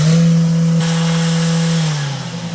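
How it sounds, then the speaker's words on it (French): A car driven aggressively with its engine revving hard, a loud steady droning roar that climbs sharply in pitch partway through and then eases down, close and continuous, no voices. "Conduire de façon agressive pollue."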